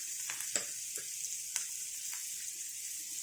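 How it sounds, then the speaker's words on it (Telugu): Grated raw mango fries in a pan with a steady, soft sizzle, broken by a few sharp stirring scrapes and clicks; no one speaks. "ఒకసారి కలుపుకొని వేయించుకోవాలి"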